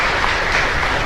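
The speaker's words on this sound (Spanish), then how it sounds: "un fuerte aplauso para todos nosotros" A congregation at Mass in a small chapel in Luque claps together in a dense, steady burst of applause, brief and fairly loud, with no talk over it.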